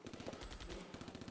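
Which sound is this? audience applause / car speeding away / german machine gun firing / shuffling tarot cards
german machine gun firing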